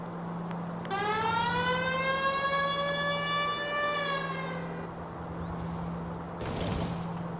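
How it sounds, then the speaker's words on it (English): A police car siren in the video game L.A. Noire winds up and holds a rising, sustained wail over a steady engine hum, then fades away, loud and continuous. "I feel more comfortable with the siren on"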